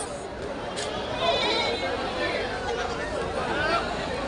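Goats bleat intermittently amid a busy crowd, voices chattering and overlapping all around in the outdoor goat market at Chakan, Maharashtra.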